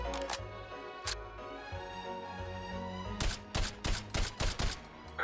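Suppressed Hitman sniper rifle firing in the VR game Hot Dogs, Horseshoes & Hand Grenades: two early sharp reports, then a rapid cluster of several shots over a steady hum.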